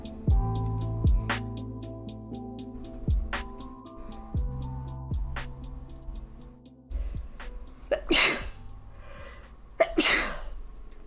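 A loud, sharp sneeze bursts out near the end, followed closely by a second sneeze, after a stretch of quiet background music.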